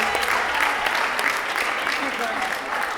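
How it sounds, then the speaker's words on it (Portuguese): Audience applause after a school theatre club performance at a forum venue, dense and continuous clapping filling the whole stretch at a steady level. "E mais uma salva de palmas para todos."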